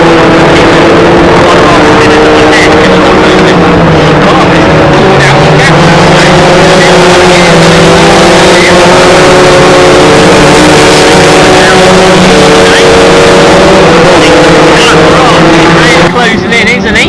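Historic Formula Ford 2000 race cars at Croft circuit drone continuously with loud, steady engine noise, while a commentator talks over it throughout.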